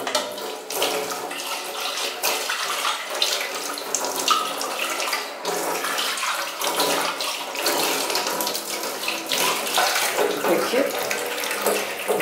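Tap water pours steadily into a sink while parts of a Philips centrifugal juicer are rinsed, giving a loud, continuous splashing rush with uneven surges as items move under the stream, close by.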